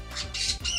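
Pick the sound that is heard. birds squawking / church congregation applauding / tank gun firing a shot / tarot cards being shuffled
birds squawking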